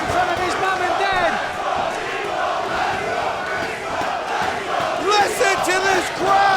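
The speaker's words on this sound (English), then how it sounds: "Listen to this crowd!" A roaring wrestling crowd at a Ring of Honor match, loud sustained cheering and chanting with shouted voices rising and falling throughout, swelling near the end.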